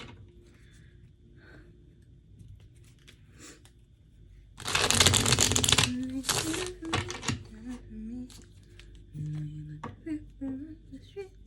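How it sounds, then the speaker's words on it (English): A burst of rapid tarot card riffling lasting about two seconds, followed by softer card handling and a few quiet taps. "That was a horrible shuffle."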